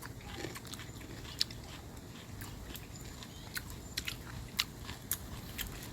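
Fresh juicy cucumber being bitten and chewed close up, with a few crisp crunches standing out over a soft, steady chewing texture.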